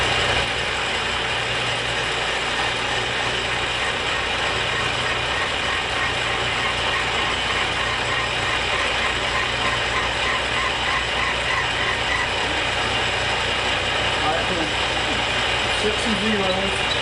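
A metal lathe turns at about 200 RPM while machining a tailstock quill, giving off a steady, dense mechanical whir and gear rattle that stays loud and unbroken throughout.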